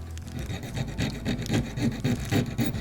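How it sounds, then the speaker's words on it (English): A medium file rasps back and forth across a small brass clock part clamped in a little vise on a desk, giving close, rhythmic scraping strokes about two to three per second. "using a medium thickness file, first I file the top flat, then file each side"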